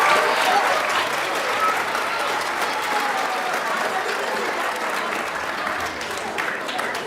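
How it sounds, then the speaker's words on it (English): Audience applause at a middle school winter band concert, steady and loud clapping from a full crowd filling the room for several seconds without pause. "Let's give everybody a round of applause before we get started here."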